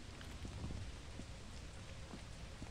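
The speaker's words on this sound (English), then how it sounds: "I think it's like thunder in the distance." Rain and distant thunder in the video game Lethal Company, a steady low rumbling wash with soft rain hiss, faint and continuous with no talk.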